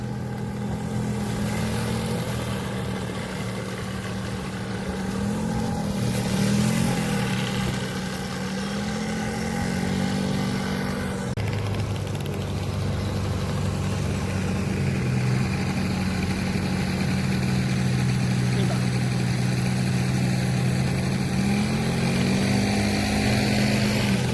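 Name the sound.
scooter engine riding past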